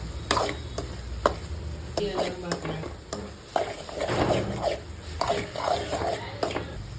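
Tomato chutney being stirred in a pan: repeated close scraping and knocking of a spoon against metal, irregular strokes with a light sizzle underneath.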